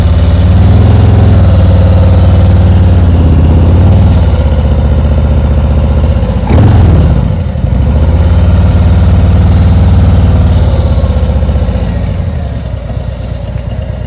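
A motorcycle engine idles loud and close with a steady low throb, briefly revving and dipping in the middle before settling back, then easing off slightly near the end.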